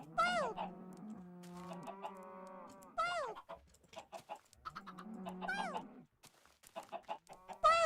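Minecraft chickens clucking in short repeated bursts, several birds close by with brief pauses between calls, loud and clear with no voices over them.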